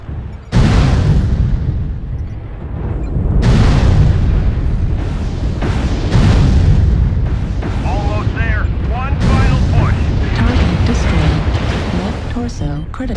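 Loud, dense booming blasts from artillery strikes in a mech combat video game roll on almost without pause, heavy low rumble layered with crackling bursts, while a synthetic announcer voice speaks over the barrage.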